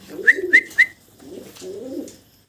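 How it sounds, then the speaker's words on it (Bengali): Large pigeons in a 24-by-24 cage give three short, sharp call notes followed by soft, low cooing, close by and clear. "বিশাল সাইজের কবুতর চব্বিশ বাই চব্বিশ খাঁচায় দেখেন জায়গা হয় না"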